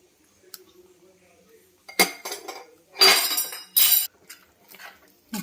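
Karachi halwa with ghee stirred in a metal pan: sharp clinks and scrapes of a spoon against the pan come in several close bursts between quiet stretches.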